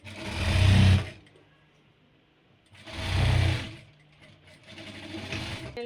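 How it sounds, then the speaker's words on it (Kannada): A sewing machine stitches along the side seam of a tambula gift bag, two loud bursts of whirring stitching separated by a pause, then a softer third run near the end. "ಟಚ್ ಸೈಡ್ ಸ್ಟಿಚ್ ಹಾಕ್ತಾ ಇದ್ದೀನಿ."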